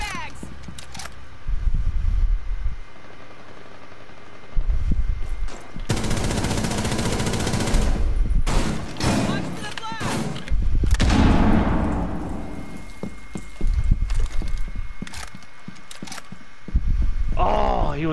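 Video game gunfire in a squad shooter, bursts of automatic fire and loud impacts rattling through a busy, noisy mix with voices talking over the action.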